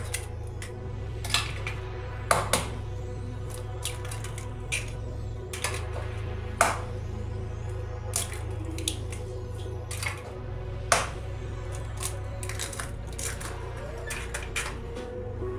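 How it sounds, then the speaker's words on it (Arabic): Ingredients for a quick, economical diet lunch or dinner are stirred together in a bowl, a utensil clinking and scraping against the sides in an irregular rhythm over a steady low kitchen hum. "وهلا رح اخلط كل المواد مع بعضها."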